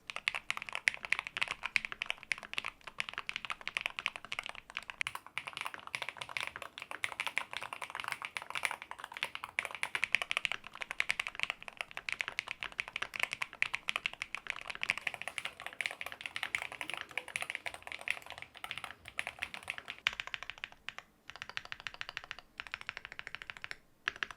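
Steady, fast mechanical keyboard typing with crisp clacky keystrokes, close and continuous with no talking, thinning out briefly near the end.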